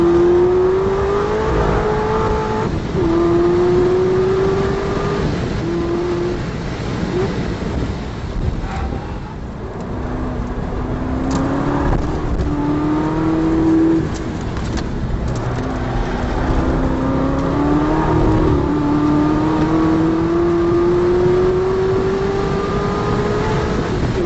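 A 2013 Chevrolet Corvette ZR1 on Michelin Pilot Sport Cup tires laps the Nürburgring, its engine rising through the revs again and again in repeated gear pulls, loud and close, with wind buffeting the microphone throughout.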